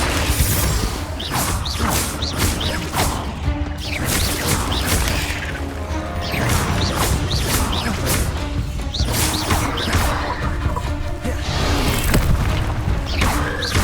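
Confringo fire spells blasting in the Hogwarts Legacy video game during a fight with a giant spider: repeated loud booms and crashing impacts with whooshing bursts, dense and continuous across the stretch.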